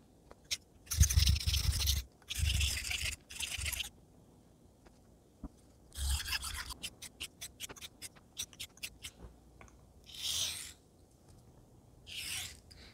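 A Wade & Butcher The Celebrated straight razor blade honed on a stone in short, repeated strokes, each a faint gritty scrape, followed by a run of quick light taps and two more soft passes.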